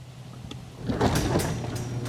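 A garage door rolls open after a keypad opener is triggered, a steady mechanical rumble and rattle building after the first second and continuing at moderate loudness to the end.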